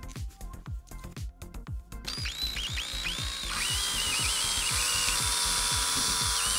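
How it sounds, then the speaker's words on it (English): A power drill fitted with a straw-sized bit bores holes through plastic bottle caps set over a protective backing. Short bursts give way to a sustained high whine, with steady rhythmic clicking running underneath throughout. "with a drill bit the same size as the straws to make the holes through the bottle caps"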